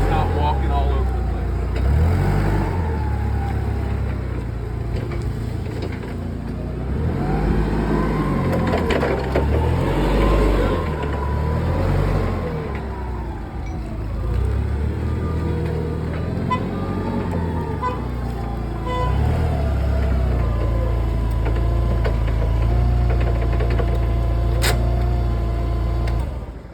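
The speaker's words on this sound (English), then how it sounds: "So we're just going to drive it forward, do a turn, come back, and then I'll back up." A forklift drives forward, turns and reverses during a steering inspection. Its engine hums and rumbles steadily the whole time, swelling and easing with the manoeuvres. A horn-like toot sounds briefly near the end.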